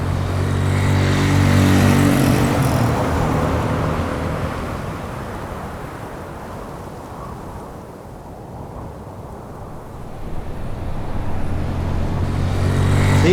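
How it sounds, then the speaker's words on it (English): Motorcycle engines drone past in a scene, loud at first, fading to a distant hum midway, then swelling back as the bikes approach again. "let's go ahead and activate our motorcycle sounds and play that again"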